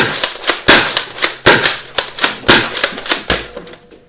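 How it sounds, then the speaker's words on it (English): Rapid sharp clacks and pops from an X-Shot Chaos Orbit toy blaster firing at a wall indoors, about a dozen loud close shots in an uneven burst over four seconds, no talking. "So I'm just going to fire towards the wall."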